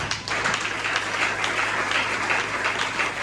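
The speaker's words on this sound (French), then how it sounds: "Applaudissons la parole de Dieu" Congregation at a young missionaries' Christian convention in a French-speaking church applauding together: dense, lively clapping filling the hall, steady and loud over a low hum.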